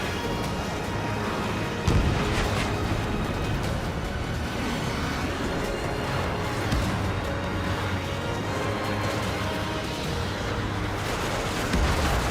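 Ace Combat 7 jet combat with a continuous roar of engine and battle noise, broken by a sudden heavy boom near two seconds and another near the end as a missile strikes its aerial target.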